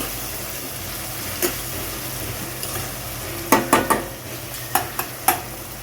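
Onion and tomato softening in a pan with turmeric, chili powder and garam masala, under a steady low sizzle broken by several sharp scrapes and clacks of a spoon stirring against the pan.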